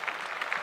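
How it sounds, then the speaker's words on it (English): A short burst of clapping for the first and last time breakdancing appears at the Olympics, steady and fairly soft, a small scattered sound rather than a big crowd roar, with no talk over it. "Clap that up."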